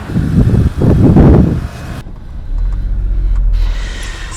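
A taxi arrives with a loud, close road rumble and engine drone, its noise swelling and then dropping away to a lower, steady motor hum as it slows, with no talking.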